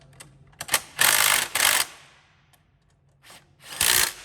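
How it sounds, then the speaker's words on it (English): Bolts being tightened on the front bumper of a 1300W electric ATV quad, heard as bursts of whirring, ratcheting tool noise in short and longer runs with pauses between, close and fairly loud. "you can just go and tighten all of them"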